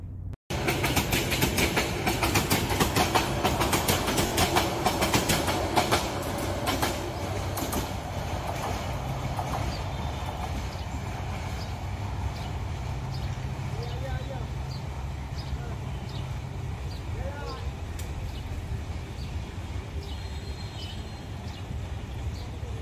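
The Meghna Express passenger train speeds past at high speed near Chittagong Junction cabin under the Dewanhat bridge. It makes a loud, close rushing clatter of wheels that settles into a sustained rumble and rattle of carriages.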